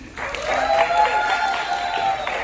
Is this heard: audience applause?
yes